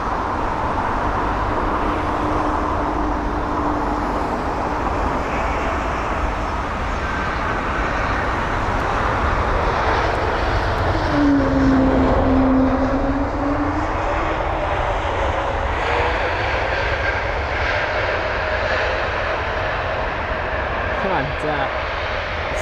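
Embraer E195-E2 jet airliner arriving at London Heathrow: a loud, sustained engine roar with a whine that dips and rises midway as it passes, and a voice faintly present at times.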